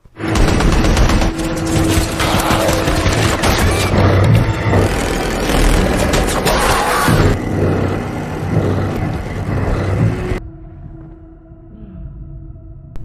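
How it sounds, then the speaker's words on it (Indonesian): Unmanned automatic guns open fire on creatures in a film scene, a dense, loud fusillade of rapid bursts and booms lasting about ten seconds before cutting to a quieter low rumble. "sensor itu mengaktifkan senjata tanpa awak dan menembaki makhluk-makhluk tersebut"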